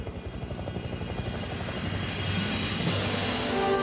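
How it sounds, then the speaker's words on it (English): A helicopter's rotor thumps steadily during a blizzard in Kyrgyzstan, its roar swelling louder as it approaches, with the throbbing beat continuous throughout. "It's a helicopter, I know it is."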